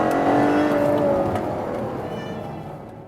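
A Ferrari GTC4 Lusso's 681bhp V12 engine roars loudly as it accelerates, the pitch climbing steadily before the sound fades slightly toward the end.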